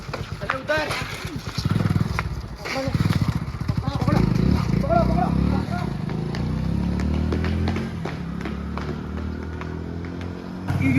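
A motorcycle engine idling and revving nearby, its throbbing rattle running continuously while people talk loudly over it.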